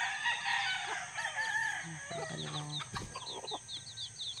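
Chickens cluck and chirp in a busy barnyard, with a rooster crowing and the thin peeping of chicks layered over steady background noise.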